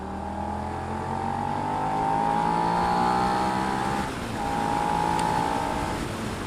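Suzuki SV650 motorcycle on a road test ride, engine pulling hard from third gear, a loud rising drone that dips briefly at a gear change and climbs again, heard close without speech.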